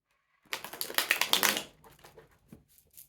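A deck of tarot cards being shuffled, heard as a quick run of crisp riffling clicks and flutters up close, followed by softer scattered taps as the cards settle.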